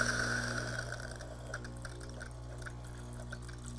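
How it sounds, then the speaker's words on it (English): A Gaggia Velasca espresso machine dispenses hot water into a pitcher, a steady liquid stream over a low mechanical hum with faint drips and splashes. "we'll press the hot water button"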